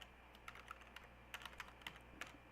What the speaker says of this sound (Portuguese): mas vou digitar Firefox.